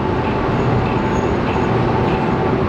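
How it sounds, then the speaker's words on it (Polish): Locomotive arriving at a Ukrainian railway station to couple with train wagons: a continuous loud rumbling rail drone with steady mechanical noise and no distinct clanks, heard alone without talking. "właśnie lokomotywa przyjechała i będzie się podczepiać do tych wagonów"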